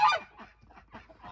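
Geese honk from close by in a quick run of loud, nasal calls, one bright honk followed by several softer ones in rapid succession.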